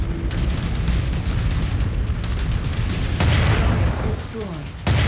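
Heavy booming explosion of a destroyed target in the mech combat game MechWarrior 5: Mercenaries, a dense rumbling blast sustained throughout with a sharper burst near the end, loud and close under game noise.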